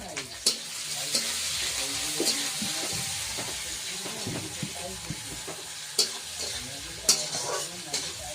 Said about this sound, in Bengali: এবার কাঁচা লঙ্কাও দিয়ে দেবো।